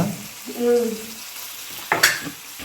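Onions and bitter gourd fry in a pan with a soft steady sizzle, broken by a short vocal sound early on and a couple of sharp scraping stirs or clinks toward the end.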